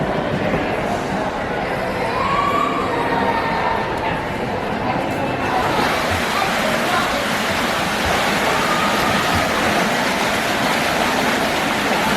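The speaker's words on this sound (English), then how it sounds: "you've got an amazing waterfall right here" A waterfall at the back of a resort gives a loud, steady broadband rush of falling water, with voices talking faintly under it.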